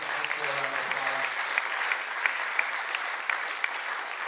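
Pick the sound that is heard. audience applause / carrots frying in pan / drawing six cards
audience applause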